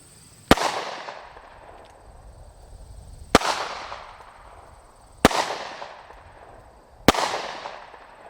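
Four sharp, loud bangs spaced a couple of seconds apart as the S333 Thunderstruck firework shells burst, each crack trailing off into a crackling decay, with no voices.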